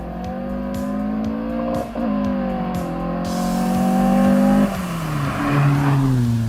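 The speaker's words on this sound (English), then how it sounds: "there'll be some video clips that I gathered for you to listen to the engine" A Volvo B230 four-cylinder engine idles with a steady rhythmic thrum, then revs up and down, loud and close, with no voices.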